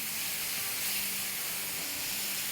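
Spice paste frying and steaming in a pan, a continuous even hiss with faint low crackling beneath, no voices.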